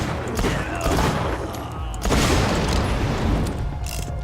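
A gun in Borderlands 2 fires rapid bursts of loud, booming shots, close and punchy in two main volleys, with game effects mixed around them.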